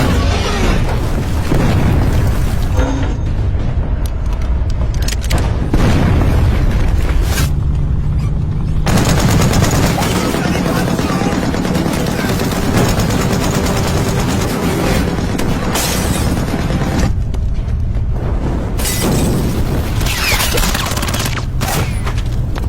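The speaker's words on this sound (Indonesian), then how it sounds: "Tentara Uni Soviet langsung menembaki mereka dengan tanknya." Soviet tanks firing cannons at German troops and tanks in a war film, loud booming blasts and explosions mixed with bursts of gunfire, continuous and heavy throughout.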